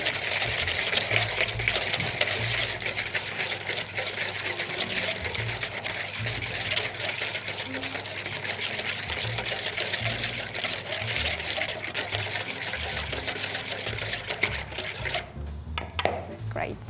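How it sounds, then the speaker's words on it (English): A spiced hot cross bun pudding mixture is whisked in a bowl, producing a fast, continuous rhythmic swishing and tapping that stays fairly loud and close throughout. "I'm going to use a whisk and gently start mixing all together."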